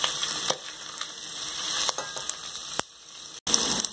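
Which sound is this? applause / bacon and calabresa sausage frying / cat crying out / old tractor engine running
bacon and calabresa sausage frying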